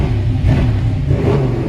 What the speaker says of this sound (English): Love the sound of this engine.